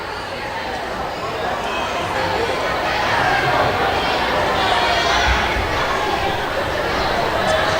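Large crowd of students chattering in a gym during a JV girls' basketball game, a steady, dense babble of many voices that swells slightly midway and holds at a fairly loud level throughout.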